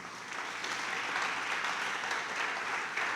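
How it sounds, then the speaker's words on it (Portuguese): Church congregation applauding the Lord during a Portuguese-language Wednesday service, a steady wash of clapping that holds evenly throughout, somewhat distant and soft, with no voices on top. "Dá um aplauso ao Senhor aí"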